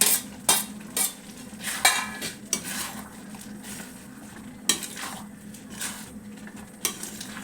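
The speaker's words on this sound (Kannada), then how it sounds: "ನೋಡಿ ಇವಾಗ ಕುದಿತಾ ಇದೆ ಅದಕ್ಕೆ ತೆಂಗಿನಕಾಯಿ ಕೊತ್ತಂಬರಿ ಎಲ್ಲ ಹಾಕಿ ಮಿಕ್ಸ್ ಮಾಡೋಣ" Pot of millet khichdi bubbling while coconut and coriander are stirred in, with repeated scrapes and clinks of a spoon against the pot at an irregular rhythm over a low steady simmer, close and alone without talk.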